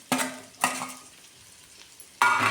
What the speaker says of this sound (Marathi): आता आपल्याला टाकायचं आहे हे बटाटे बारीक करून घेतलेले. छान मस्त परतून घ्यायचं